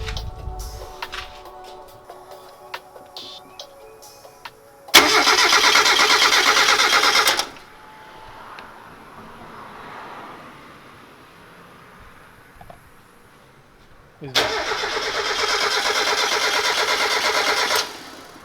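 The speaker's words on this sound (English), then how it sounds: "Well guys, the car still doesn't start," A Mazda Miata MX5 engine cranks without starting after a fuel injector seal replacement, two loud steady bursts of starter cranking each lasting a few seconds, separated by a quieter pause with faint background noise.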